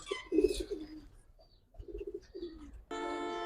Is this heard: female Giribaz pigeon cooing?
yes